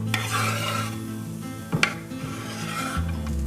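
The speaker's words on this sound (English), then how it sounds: "We've been stirring for about 2 minutes just to get the mushrooms a little brown." A spoon stirs chopped white mushrooms with cooked-down onions and garlic in an oiled pan, giving soft scraping and rubbing with a light sizzle and one sharp utensil clink partway through.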